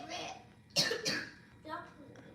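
A sharp cough bursts out once, followed by a softer second cough, with a voice speaking briefly before and after.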